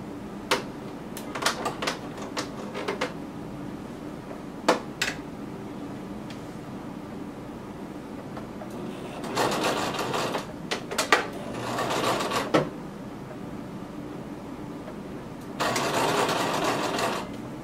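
A sewing machine stitches a zipper into a skirt in short bursts: scattered clicks and brief runs first, then two longer whirring stretches of stitching close by.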